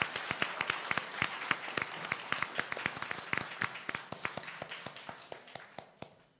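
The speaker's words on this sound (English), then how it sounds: "Let's give them all a big round of applause for a job well done." A small audience applauding at a national spelling bee championship, a thin, fairly sparse round of distinct claps that gradually tapers off toward the end.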